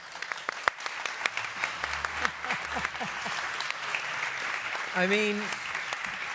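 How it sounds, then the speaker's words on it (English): Applause from a conference audience at a Nudgestock talk, scattered and fairly light claps with a few sharper individual hits, and a voice briefly speaking near the end. "Round of applause."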